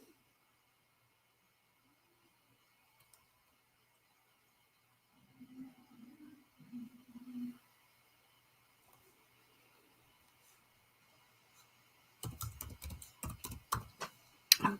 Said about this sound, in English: and type in the word